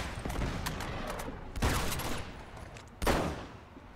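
Gunfire and a grenade blast in the video game Uncharted 2: scattered shots over a rumbling battle bed, then two heavy bursts, one near the middle and another toward the end, fairly distant and subdued.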